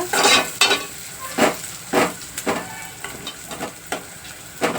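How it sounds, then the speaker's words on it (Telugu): Sliced onion, green chillies and curry leaves fry in oil in a pan, a rhythmic series of spatula scrapes and stirring strokes roughly every half second over a continuous low sizzle, close up. "ఇవి కూడా కొంచెం ఆయిల్లో ఫ్రై చేసుకోవాలి"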